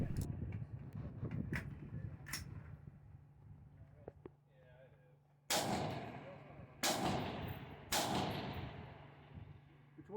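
Gunfire rings out at a multigun shooting stage with several sharp, loud booming shots spaced about a second apart, preceded by quieter clattering and distant pops, with voices talking faintly at times.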